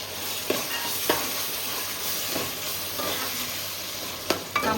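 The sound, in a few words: stirring tomatoes into a frying curry in a pan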